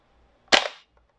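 A WE 999c HK G36c airsoft gas blowback rifle fires a single sharp, loud crack with a brief gassy tail, standing alone in an otherwise quiet room.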